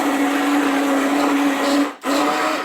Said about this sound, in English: So we're going to grind all this up. Now this is going to be loud.